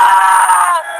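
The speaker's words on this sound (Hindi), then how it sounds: "तभी गोपी की चीखने की आवाज आती है।" A man's sustained, loud scream rings out as a horror story sound effect, a single strained cry holding steady before trailing off.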